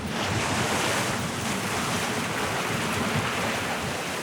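Strong wind roars steadily over open water, mixed with crashing surf and buffeting gusts against the microphone.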